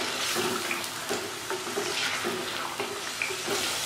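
Saag and meat for saag gosht being fried down in ghee, a soft continuous sizzle with repeated stirring scrapes of the spoon through the thick greens, close by and with no talking.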